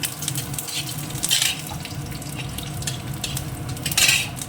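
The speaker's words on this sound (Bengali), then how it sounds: "লাল করে বেশ সুন্দর করে ভেজে নেবো" Garlic frying in a pan on the stove, a continuous sizzle mixed with stirring scrapes and occasional clinks of a utensil against the pan, with no talking.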